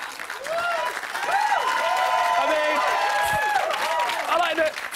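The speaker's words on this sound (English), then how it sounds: "Three of you went to clap and the rest of you went," A small audience clapping scattered and unevenly, with steady applause running under tonal voices and sung or spoken phrases on top, moderately close and fairly loud throughout.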